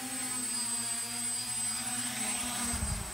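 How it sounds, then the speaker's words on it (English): A small quadcopter drone descends to land, its propellers spinning with a steady, close whirring hum that holds throughout, with a slight shift in pitch near the end. "Come back down just very gently on the throttle,"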